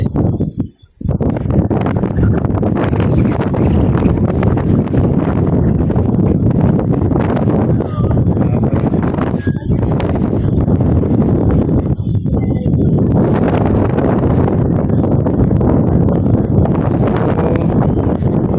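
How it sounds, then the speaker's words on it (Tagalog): Strong wind buffets the microphone outdoors as a dense, roaring rush that barely lets up, with a brief dip near the start and occasional rustling bursts. "Pakalakas ng hangin dito"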